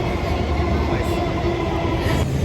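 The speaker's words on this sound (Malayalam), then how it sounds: "ഇപ്പോഴാണ് ഞാൻ ശരിക്കും മെട്രോയിൽ കയറി ഡൽഹി മെട്രോയില് ആശ്വാസത്തോടെ ഇരിക്കുന്നത്" Delhi Metro train riding, heard from inside the carriage as a steady, loud rumble and hum of wheels and motors that runs without a break.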